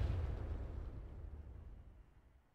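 A MANPADS missile launch in a military video game, a heavy booming blast that rolls off into a fading low rumble over a couple of seconds, fairly distant and alone.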